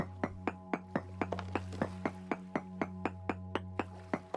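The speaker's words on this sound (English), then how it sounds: "So these chunks you can hammer for more copper" Copper chunks are hammered in the survival game Vintage Story, a steady series of about eighteen bright, ringing metallic taps at an even pace over a low constant hum.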